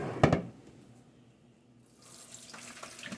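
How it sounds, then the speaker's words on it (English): Water from boiled noodles is poured off while straining, opening with a short splashing gush, then a quiet lull before a thinner, hissing trickle of running water resumes. "strain noodles."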